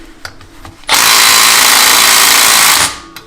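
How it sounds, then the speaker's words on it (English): Small impact gun on a Jeep ZJ rear axle with an 8.8 adapter, loosening bolts in one loud sustained burst of about two seconds, with faint clanks before and after. "So we're gonna see if my little gun here can get this done."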